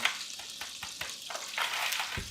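Breaded pork rinds sizzle and crackle steadily in browned butter, with a few soft bumps and scrapes as pieces are laid in and flipped close by.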